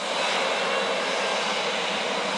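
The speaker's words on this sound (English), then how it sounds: "this Ryanair plane that is on the tanned strip of the runway" A Ryanair jet's engines roar steadily at Manchester Airport's runway, a loud, even, continuous rush with no voices over it.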